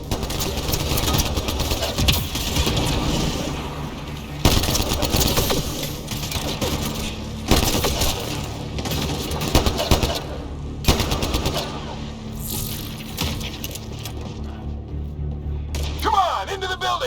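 Enemy shooters firing in the sci-fi video game Mass Effect: Andromeda, rapid bursts of automatic gunfire and crackling shots in repeated volleys, loud and close, over an underlying mechanical hum.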